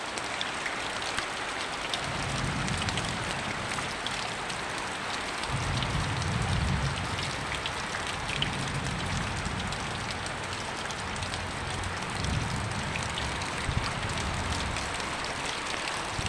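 Continuous rain falling in a steady wash, with soft low rumbles underneath at moments.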